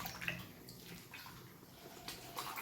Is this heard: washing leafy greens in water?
yes